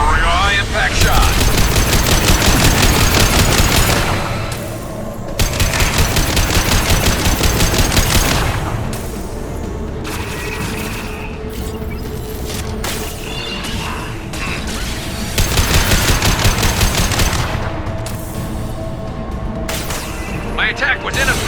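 Heavy automatic gunfire and high impact shots in the sci-fi shooter game Mass Effect 2, loud sustained bursts in several long volleys separated by short lulls, with a voice speaking over the shooting.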